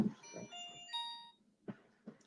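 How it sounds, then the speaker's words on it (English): A Nokia 106 mobile phone powers on with a quiet tonal chime, a short run of rising bright notes over about a second, followed by a few soft handling taps. "Gives you a nice little chime"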